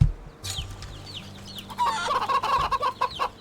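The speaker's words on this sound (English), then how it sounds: "A plump and happy hen." A plump hen in the Wytchwood video game clucks in short repeated bursts, with game ambience and brief chirpy sounds under it, fairly close and moderately loud.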